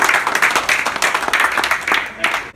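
A small group claps and cheers in a brief, lively round of applause during a headshot photo session. The clapping is close and uneven, with a few voices mixed in.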